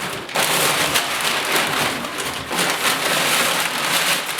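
Packing paper is crumpled and pushed into a cardboard box as padding, giving a dense, continuous crinkling and rustling close by that swells and eases in uneven bursts, with no one speaking.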